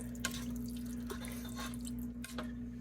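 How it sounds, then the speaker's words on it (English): Beef broth poured into a soup pot in a home kitchen, a faint, steady liquid splashing and dripping over about three seconds with a low background hum. "But put the beef broth in."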